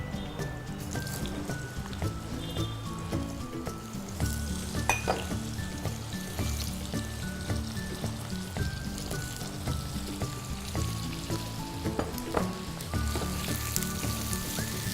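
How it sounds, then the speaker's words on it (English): Eggplants frying in hot oil, a continuous close bubbling sizzle with scattered crackles and occasional stirring clicks, steady throughout. "And we're going to add the eggplants."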